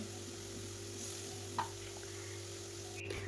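A tomato, ginger and garlic paste frying in a pan gives a faint, steady sizzle, with a single soft clink partway through and a low background hum.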